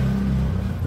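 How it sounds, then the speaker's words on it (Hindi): Road traffic rumbles past in a low, steady engine drone with a brief revving swell, close and fairly loud, no speech. "बहुत ट्रैफिक है रोड पे।"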